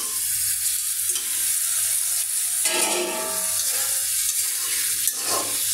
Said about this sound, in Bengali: আলুটা কিছুক্ষণ কষিয়ে নেব।